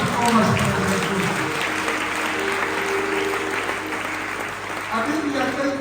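A church congregation claps together in sustained applause, a dense, even patter that carries on for several seconds with a voice speaking faintly underneath.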